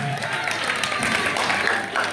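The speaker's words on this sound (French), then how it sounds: "applaudis d'abord pour toi-même" An audience claps loudly and continuously at a school cultural day, dense applause filling the whole moment with voices mixed in underneath.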